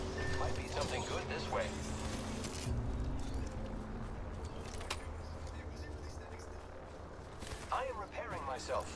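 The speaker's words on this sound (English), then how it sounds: "And a shotgun bolt." In the video game Apex Legends, a shotgun bolt is handled with clicking, ratcheting mechanical sounds and sharp metallic clacks. Game noise and a voice talk over it.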